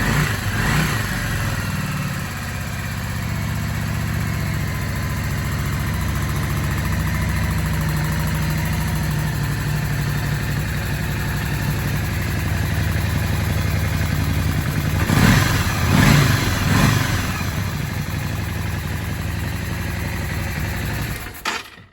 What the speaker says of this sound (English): We're just going to try and start her up.